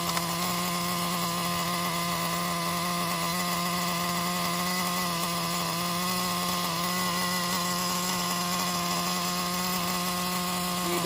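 A Traxxas Jato 3.3 RC truck's nitro engine, running on 30% nitro fuel with a rich mixture, holds a steady, buzzing, high-pitched whine close by for the whole stretch.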